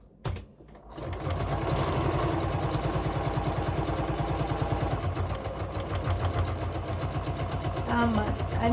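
A sewing machine stitches over an earlier seam in a fast, even rhythm, running steadily and close after a short pause and a few brief starting taps.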